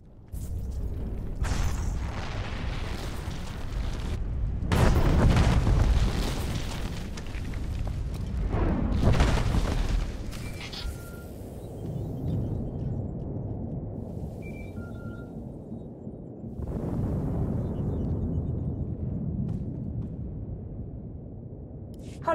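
Explosions in Star Wars: The Old Republic roll out as heavy, low rumbling booms in several surges, fading to a quieter drone and then swelling again.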